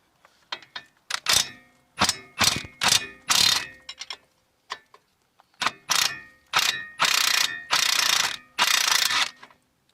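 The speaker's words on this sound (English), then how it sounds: "I'm going to use an impact gun and a spanner" An impact gun undoing 18mm bolts on the front shock absorber of a 2016 Vauxhall Corsa, firing in a string of loud, close rattling bursts of varying length, with short silent gaps between them.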